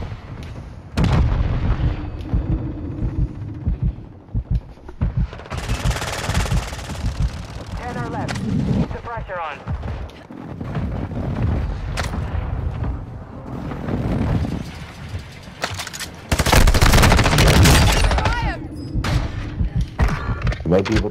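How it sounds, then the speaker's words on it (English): Heavy bombardment and gunfire in a battle royale video game, with repeated booming blasts and rattling shots filling the scene, loud and near, while players talk over the action throughout. "Bombing at a safe zone now."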